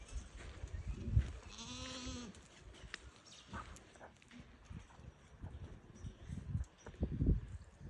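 A goat offered for sale, part of a Dutch-cross dairy herd, bleats in a drawn-out quavering call at moderate distance, with faint rustling and farmyard shuffling before and after.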